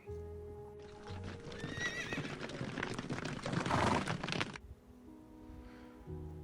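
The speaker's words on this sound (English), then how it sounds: "Picture a horse." A horse whinnies loudly and nearby, a long shrill neigh with wavering pitch, then quiet.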